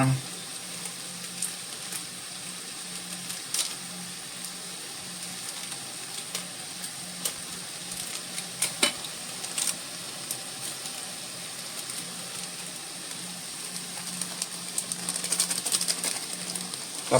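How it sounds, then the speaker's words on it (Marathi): Milk-vegetable curry seasoned with salt, sugar and garam masala is stirred in a pan, giving a steady low sizzle broken by scattered spoon scrapes and clinks, close by and fairly quiet. "आता हे व्यवस्थित मिक्स करून घ्यायचं आहे"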